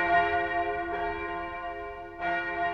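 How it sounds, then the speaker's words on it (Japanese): A church bell tolls the hour of twelve in a Cinderella story. Two or three sustained, ringing strikes overlap, each leaving a long shimmering hum, fairly loud and alone. "12時の鐘が鳴っているではありませんか。"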